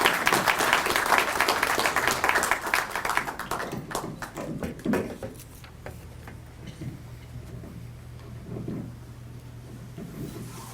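Audience applause at a spring community event greets a speaker, strong for several seconds, then dwindling into a few scattered claps and taps with a low hum beneath.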